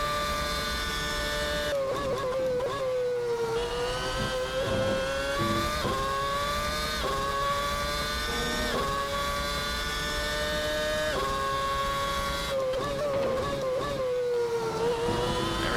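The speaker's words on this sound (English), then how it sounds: "as we go over the curb so you can hear the car bottoming" A McLaren MP4/22 Formula 1 car in the Assetto Corsa racing game, loud steady engine whine rising and falling through gears, with brief harsh scraping thuds as the floor bottoms out over a curb.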